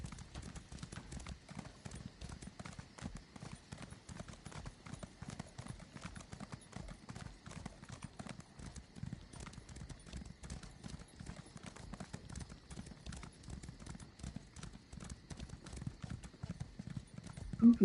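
A horse gallops in Elder Scrolls Online, a fast steady patter of hoofbeats running continuously at low volume, close and unbroken across the whole stretch.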